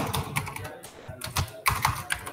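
Rapid typing on a computer keyboard while entering CSS code, irregular close clicks and clacks in quick bursts with brief pauses, no talking.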